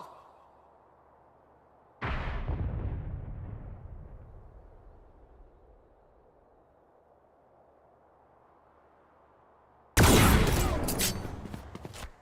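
Two heavy blasts from a grenade in the tactical shooter Valorant, each a loud, sudden boom with a rumbling decay, the first early on and the second about eight seconds later after near-quiet.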